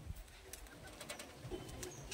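A large Giribaj pigeon coos close by in repeated soft, throaty calls over faint background noise, with no speech.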